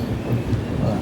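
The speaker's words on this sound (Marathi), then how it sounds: "ही इंजिन निघालेली आहे आपली थांबून" A railway engine detached from its train pulls away on the line near Kasara, a steady low rumble and mechanical churn that runs on without pause through the moment.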